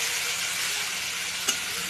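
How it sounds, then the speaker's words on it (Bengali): Chopped onions fry in a pan with toasted cumin, giving a continuous, even sizzle up close, broken by a single short clink near the end. "এখন আমি পেঁয়াজ কুচি দিয়ে দিলাম। পেঁয়াজ কুচিটা একটু ভেজে নিব"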